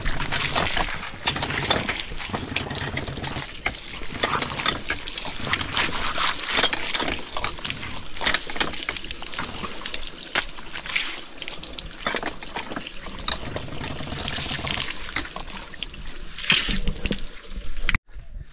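Water is poured and splashed while washing feet, a continuous close splashing and trickling with scattered drips and small knocks, loud and steady for most of the stretch before stopping abruptly at the end.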